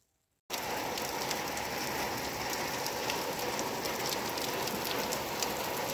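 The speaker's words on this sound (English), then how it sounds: "I've just realized that since it started raining" Rain falls steadily in a backyard garden, a dense, loud hiss of drops pattering on surfaces that starts abruptly after a brief silence and continues unbroken.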